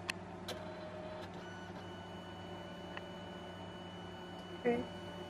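A Liene 4x6 photo printer runs quietly, a faint steady mechanical hum with a few soft clicks and a brief louder whir near the end.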